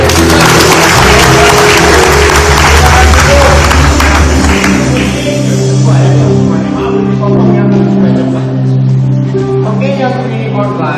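Audience applause at a talk by a speaker, a loud, dense wash of clapping and crowd noise that gradually thins, with a voice over it and a sustained musical tone underneath.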